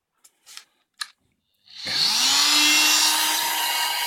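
A power saw fitted with a fine blade trims out wood for fitting sash pulleys, starting after a few light taps and then running steadily and loudly with a sustained whine.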